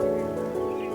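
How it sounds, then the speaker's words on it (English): Soft birdsong in the survival video game Rust, a faint steady chirping and tonal warble over a low ambient hum, brief and heard alone. "Listen to the birds sing, a beautiful tune of life."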